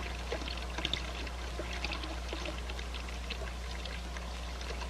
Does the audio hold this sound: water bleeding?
yes